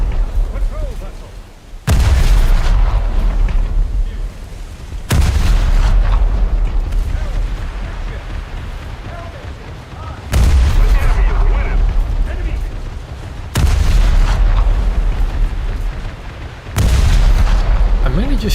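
Guns of a British frigate firing at ships in a naval video game: five heavy booming shots at intervals of about three to five seconds, each followed by a long rumbling decay, with someone talking between them.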